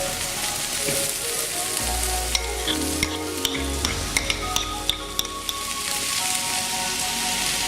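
Celery stirred into a hot frying pan with stock cubes, the oil crackling and sizzling steadily up close while a utensil scrapes and taps the pan in a quick, uneven series of clicks.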